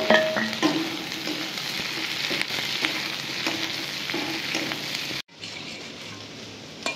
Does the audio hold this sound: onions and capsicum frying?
yes